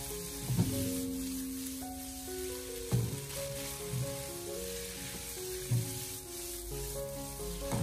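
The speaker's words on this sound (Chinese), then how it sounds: "然后再继续的开大火给它翻炒几下，把它翻炒均匀" Dried tofu sizzles steadily in a hot wok over high heat with oyster sauce and soy sauce, close up. A few dull spatula knocks mark the stirring, and soft background music plays throughout.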